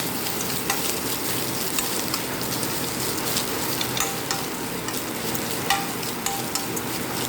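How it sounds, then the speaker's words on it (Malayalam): Coconut roasts in a pan for a ground spice paste with a steady, dense crackling hiss, punctuated now and then by light stirring scrapes, close and continuous. "നമുക്ക് കരിയാതെ കുറച്ച് സമയം വറുത്തെടുക്കാം"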